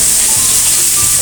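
Garlic and onion sauté together in a hot pan, giving a steady, loud sizzle and crackle that fills the whole stretch, with faint stirring scrapes underneath and no talk.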